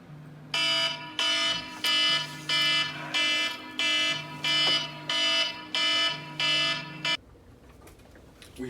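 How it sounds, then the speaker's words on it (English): A sleep-study wake-up alarm blares in loud, evenly spaced electronic beeps, about ten harsh pulses in a steady rhythm over a low hum, then cuts off abruptly. "this alarm will go off and he'll wake up"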